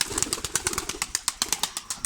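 Rapid, rhythmic wing flaps from a young white pigeon close by, a quick series of sharp beating bursts at a steady pace, loud and alone.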